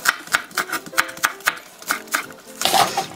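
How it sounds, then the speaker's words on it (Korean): A knife slicing green onions into thin strips on a cutting board, with steady rhythmic taps about every quarter second, close and crisp. "파는 채를 썰어주시면 됩니다."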